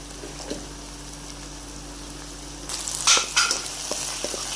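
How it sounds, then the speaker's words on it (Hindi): Soft steady sizzle of onion sautéing in a pan, with a few stirring scrapes and clinks partway through. "इधर प्याज को हमने हल्का सा सौते करना है"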